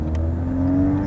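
Engine of a manual transmission car during a stick-shift lesson, a steady hum rising in pitch as the driver gives it gas, heard from inside the cabin.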